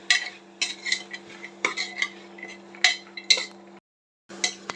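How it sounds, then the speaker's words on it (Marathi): A utensil scrapes and clinks repeatedly against a pan as rice and spices are stirred and roasted for masale bhat. The sharp metallic taps come in irregular clusters over a faint steady hum, with a short silent break. "आता छान भाजून घेऊया सगळं."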